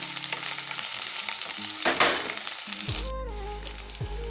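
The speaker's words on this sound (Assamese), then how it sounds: "এইখিনি আগতে অকণমান ফ্ৰাই কৰি ল'ম, আদা আৰু নহৰুখিনি।" Garlic and ginger sizzle and crackle in a hot pan, loud and close, with a stirring scrape partway through and steady frying underneath.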